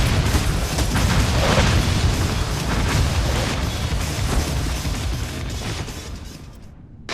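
Continuous roaring blasts and crashing booms from explosions striking walls in the Ninja Gaiden 3 game, loud and dense throughout before thinning near the end.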